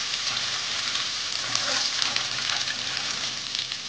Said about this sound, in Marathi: छान परतून घ्यायचं. आलं लसणाची कच्ची टेस्ट केली पाहिजे.